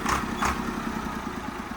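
A Swaraj tractor, a 95 model, runs nearby with a steady, throbbing engine chug and a slight rise in pitch at the start, heard alone for a moment.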